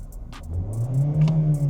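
A Hyundai Tucson SUV engine revs up hard under full throttle, its pitch climbing into a sustained roar, heard close by.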